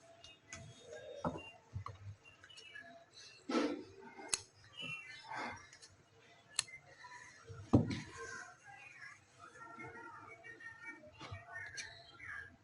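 Scissors cutting kameez fabric while a side slit is shaped, heard as a few soft, scattered snips over low room noise, with some faint background sounds and no clear speech.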